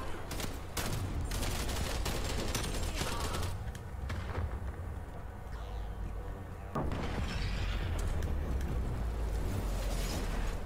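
Rapid automatic weapon fire in the shooter game Call of Duty Cold War, loud dense bursts with a brief lull midway before heavy firing resumes.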